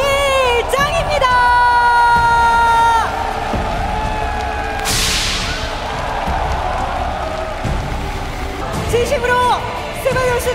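A large crowd cheers and applauds for the champion at a StarCraft StarLeague final in Korea, loud and sustained, with a bright burst of noise midway and an announcer's voice heard throughout.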